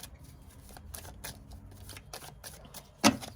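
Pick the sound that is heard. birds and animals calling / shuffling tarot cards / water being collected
shuffling tarot cards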